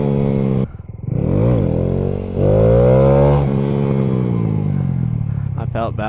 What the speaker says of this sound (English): I'm getting up, popping the clutch, braking.